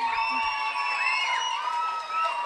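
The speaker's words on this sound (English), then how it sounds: "And the crowd goes wild." Children and families cheer and whoop at an elementary school graduation ceremony, a steady, bright crowd roar with high shrill voices that holds throughout at moderate distance.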